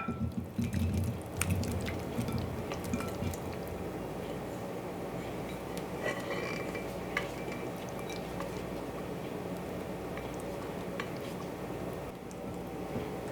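Sweet potato mixture for a honey-pecan dish poured and scraped into a buttered casserole dish, giving soft wet plops, squishes and light clinks of utensils against the dish, close and steady with no talking.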